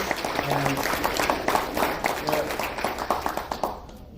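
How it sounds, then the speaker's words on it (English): An audience applauds the winner of a quiz at a developer meetup. Scattered hand claps run throughout, with talk over them, and the clapping fades out near the end. "A round of applause to Lee for winning our quiz."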